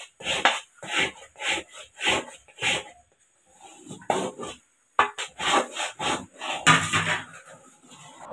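A spoon scrapes around a pan while roasted nut powder is stirred into ABC malt. Close, rhythmic rubbing strokes repeat about once every half second, pause briefly, then resume with some clinking.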